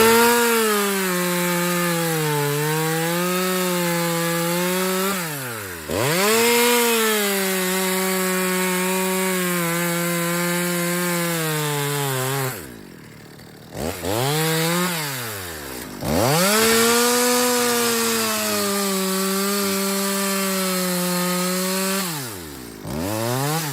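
A chainsaw fells a tree for firewood, running loud and close with a steady high whine. The pitch dips and bogs repeatedly as the chain bites into the wood, and a brief lull comes partway through.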